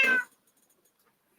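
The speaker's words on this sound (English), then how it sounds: "Here comes the cat." A Bengal cat named Lily gives a single short meow, close and clear, followed by near silence.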